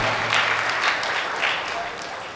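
Applause from a stage event audience welcoming a guest speaker, a dense steady clapping that swells in places, with faint talk mixed in.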